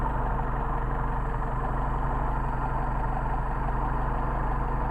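A Mercedes 190SL engine with Solex carburetors idles slightly low, a steady, even rumble close to the listener that holds constant throughout with no revving or voices.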